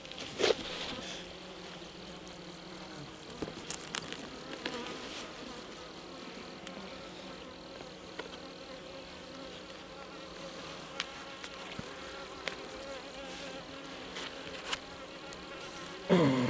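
Continuous buzzing of many honeybees around a hive in an apiary, a steady drone with occasional louder passes as individual bees fly close.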